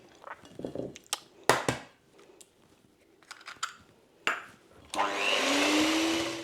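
Egg going into creamed butter, sugar, brown sugar and treacle: scattered clatters and scrapes of handling, then an electric mixer starts and runs with a loud, steady whir to the end.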